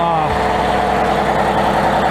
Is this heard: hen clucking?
no